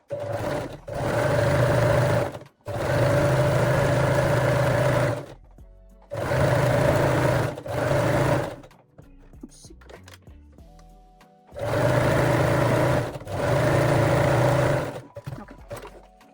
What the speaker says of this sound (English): now I am gently stretching the elastic while I'm sewing